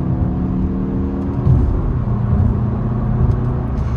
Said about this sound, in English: Drop it down to first gear, second gear. No problem accelerating onto a highway.